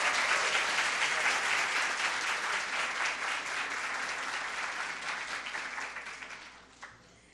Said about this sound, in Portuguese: uma salva de palmas também para a Big Band